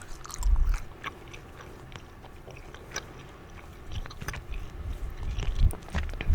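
Soft, close-up gum chewing with moist smacks and small clicks in an uneven rhythm, gently louder at the start and end, with no talking.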